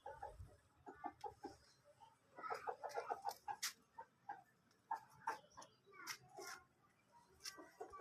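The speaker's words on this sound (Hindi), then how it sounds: "ये अकेला मुर्गा," A lone rooster clucks and calls in a series of short, fairly close bursts spread across the moment, with a faint voice now and then in the background.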